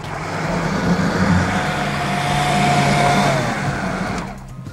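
Blender whirring steadily as it mixes a sweet-and-sour ice cream drink with milk and grated lemon zest, a continuous close motor drone that holds for several seconds and then cuts off.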